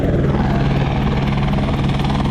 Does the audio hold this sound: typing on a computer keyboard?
no